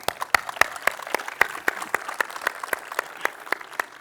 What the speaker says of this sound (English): Simon, yeah, Round of applause for Simon.